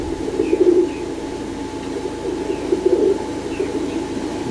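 Pigeons coo in soft, repeated low phrases at close range, with faint chirps and a steady background hum, on a fine-weather day among a keeper's flock bred for flying quality.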